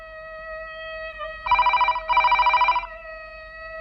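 A telephone rings in two loud, warbling bursts of about half a second each, with a steady electronic hum underneath and no talk.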